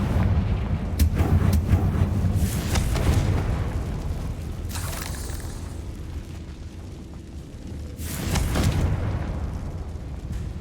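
Fire spell blasts from a Hogwarts Legacy battle go off as a few heavy booming explosions spread across the stretch, each a loud roaring burst over a constant rumbling game background.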